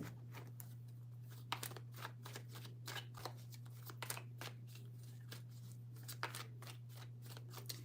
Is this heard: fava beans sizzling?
no